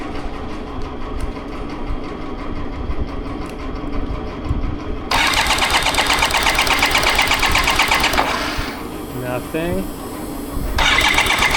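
A BMW K75RT motorcycle engine, left sitting for nine years, cranks over on the starter in a steady mechanical whir that runs loud for several seconds, breaks off, then resumes near the end.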